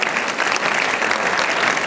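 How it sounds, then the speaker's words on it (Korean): A church congregation claps warmly to welcome two visiting missionaries, a dense, steady round of applause filling the room. "뜨겁게 환영의 박수 보내주시기 바랍니다"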